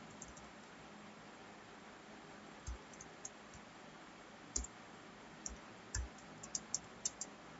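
Sparse keystrokes on a computer keyboard while typing HTML code in Notepad, quiet isolated clicks and short bursts over a faint steady hiss, with no talking.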